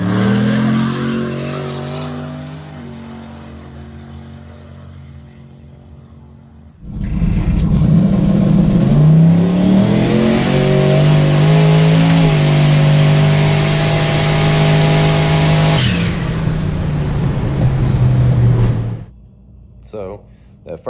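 A Chevrolet S10 pickup truck making a drag race pass at a no prep event roars hard off the line and holds a loud, steady engine howl as it pulls through the run, then cuts off abruptly near the end.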